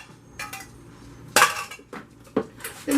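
Clam chowder ingredients are stirred in a pot, with several sharp utensil clinks and scrapes against the metal in scattered bursts, close and fairly loud over a quiet background.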